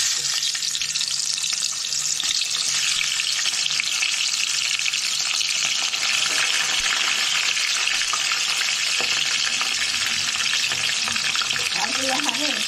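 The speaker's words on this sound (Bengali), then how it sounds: "না, এবার মাছের মাথাগুলো দিচ্ছি" Fish heads fry in hot oil for a fish-head dal, giving a steady, loud, broadband sizzle that runs the whole way through, with faint clinks near the end and no clear talk over it.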